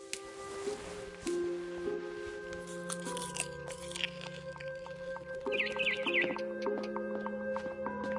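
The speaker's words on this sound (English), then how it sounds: "Then I heard chirping outside my window. It was a barn swallow going back to her nest." A barn swallow in the video game What Remains of Edith Finch gives a quick burst of high chirps near the end, over louder close crunching and clicking sounds.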